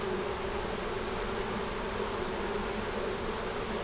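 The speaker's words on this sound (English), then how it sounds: "This one here's got a bunch of bees on it." Honeybees swarming over a frame pulled from a backyard hive, a dense, continuous close-up buzzing drone filling the whole stretch without any talk.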